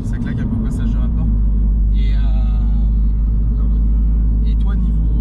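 Steady low rumble of a Mini John Cooper Works engine idling or cruising, heard from inside the car, with a voice speaking briefly over it.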